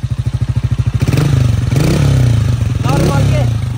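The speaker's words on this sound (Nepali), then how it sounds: "त्यो साउन्ड चाहिँ यस्तो छ मेरो बाइकको" A vintage Honda CG motorcycle engine thumping at a steady, evenly pulsed idle, then revved up into a louder, rougher roar with clattering mechanical texture, close by.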